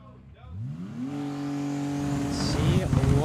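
A 2010 Nissan GTR drag car rated at 2,200 horsepower launches solo down the right lane of a drag strip, its engine rising sharply in pitch then holding a loud sustained roar as it pulls away.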